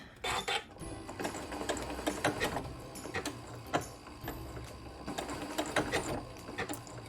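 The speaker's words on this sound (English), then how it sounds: "I'm going to give it a quick little sew in place." A sewing machine stitching fusible appliqué onto a quilt, running in short close bursts of rapid mechanical whirring and ticking with brief pauses between.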